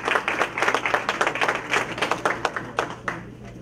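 Audience applause at a Montgomery County Board of Education meeting as two school employees of the month are honored: dense, steady clapping from a crowded room that continues throughout.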